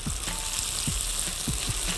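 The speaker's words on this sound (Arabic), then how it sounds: "وعلى طول مش هستنى وهنزل فيه الثوم والفلفل، هديهم كده تقليبه ظريفه" Garlic and peppers sizzle in oil in a wok, a loud, close, continuous frying hiss broken by several low scraping thumps as a utensil stirs them around the pan.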